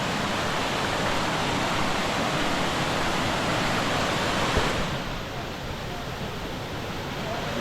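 Bhupra waterfall in Goa roars as a loud, steady wash of falling water that drops slightly in level after a few seconds while the noise continues, close and enveloping.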